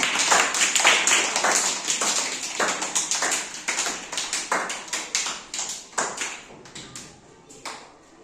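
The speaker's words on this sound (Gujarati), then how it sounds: "ચાલો તો સરસ મજાની તાળી પાડી દો" Young children in a classroom clap together in a brisk, uneven burst of sharp hand claps, close and fairly loud, loosening and thinning toward the end.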